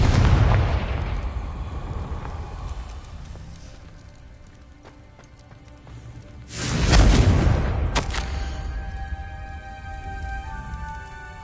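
A Confringo fire spell bursts in the wizarding game Hogwarts Legacy: a heavy boom opens, rumbles away, then a second loud explosion hits midway and rings out with a long crackling tail.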